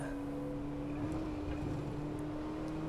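A sim racing car downshifts into second gear under engine braking, a steady droning engine tone holding at moderate loudness with faint wind-like noise behind it and no speech.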